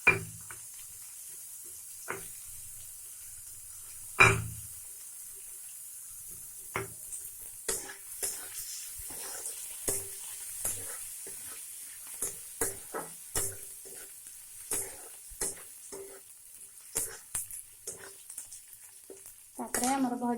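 Chana dal fries in hot oil while dalma is cooked, giving a quiet background hiss broken by sparse, irregular crackles and scraping stirs that grow busier toward the end.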